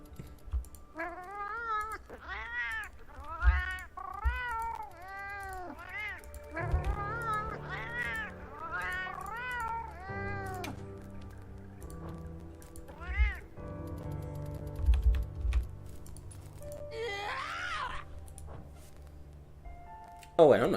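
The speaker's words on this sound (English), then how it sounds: "So you can have your cat speak cat instead of speaking English." The cat companion in Monster Hunter Wilds gives a long series of repeated meows, some quick and close together, others drawn out, over keyboard clicking. A person talks at times in the background.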